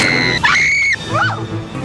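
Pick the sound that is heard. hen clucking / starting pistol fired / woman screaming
woman screaming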